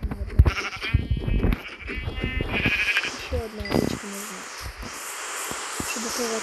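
Sheep in the Minecraft video game bleat in several wavering, nasal cries spread across a few seconds, heard alongside a voice talking and other game noise.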